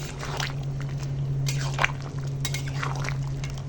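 Garam masala powder is stirred into cooked goat meat and potatoes in a pot, giving soft, wet squelching and occasional scrapes of a utensil against the metal over a steady low background hum, with no talking.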